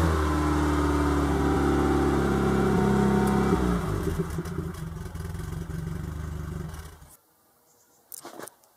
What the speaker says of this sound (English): up towards the top end, it's like a really nice rasp